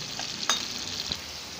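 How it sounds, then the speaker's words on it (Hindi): Potato pieces frying in hot oil over fairly high heat, a steady close sizzle with a couple of brief clinks from stirring. "आलू को अच्छी तरह से फ्राई कर लेना, थोड़ी सी तेज़ आंच पे, और इन्हें हम फ्राई करके निकाल लेंगे।"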